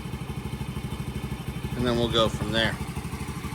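A homemade three-wheeler's small engine idles with a steady low pulsing, then revs up twice in quick bursts before settling back to idle, close by, with someone talking over the start.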